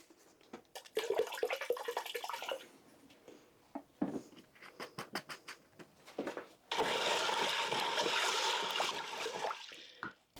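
Raw apple cider vinegar pours into a pot of bean and bacon soup being made for canning, a wet splashing stream that starts and stops several times before a longer continuous pour.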